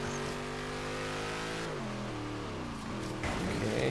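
A Lamborghini Reventon engine in the racing game Forza Horizon 3 roars loud and continuous as it accelerates, its pitch climbing, dropping at a gear change, then rising again.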